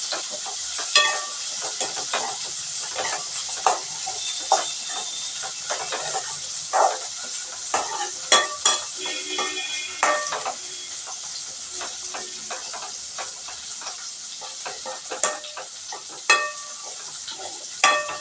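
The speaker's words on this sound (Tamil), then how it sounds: "இப்போ இது கூட நம்ம துருவி வச்சுருந்த தேங்காயை போட்டு நம்ம என்ன செய்கிறோம், இதை மிக்ஸ் பண்ணி விட்டுறோம்." Cooked greens and grated coconut stirred in a pan, with repeated scraping strokes over a steady sizzling hiss throughout, up close and without speech.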